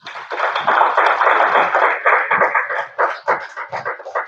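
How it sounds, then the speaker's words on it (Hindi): A small audience claps together in a steady, dense patter for about four seconds, close and fairly loud, with no one talking. "एक बार ताली बजाओ इनके लिए।"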